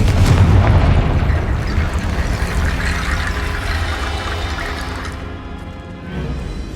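A Confringo blasting spell explosion from Hogwarts Legacy booms loudly at the start with heavy low rumble, then a long crackling, rushing decay that fades over several seconds before a softer swell near the end.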